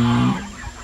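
A chicken gives a short, close cluck or squawk, a single loud call under a second long, from hens kept in a backyard coop with nesting boxes.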